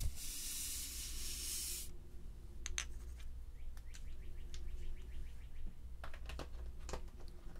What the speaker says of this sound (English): If you hear birds chirping, those are not sound effects